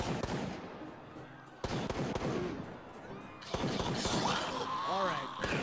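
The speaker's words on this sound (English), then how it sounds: "Now, Valen, the heavy gun!" Heavy gun firing in the shooter game Gray Zone, sharp repeated shots and bangs amid battle noise, with a louder burst of blasts and debris toward the end.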